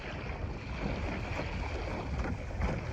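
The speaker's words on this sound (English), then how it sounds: "I'm just sailing about 3 miles" A small Sunfish sailboat glides upriver in a light breeze, giving a faint, steady wash of water and wind rumble without any voices.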